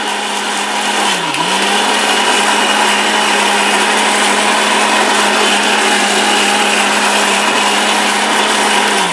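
An Orpat 1600W blender grinds chili into paste, a loud, steady, close whir that runs throughout, with a brief dip in pitch under load near the start and no talk.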